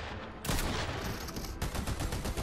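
Gunfire rattles in Fortnite, with dense rapid bursts of automatic shots starting abruptly and carrying on loud and sustained, a second burst layering in partway through, and no talking.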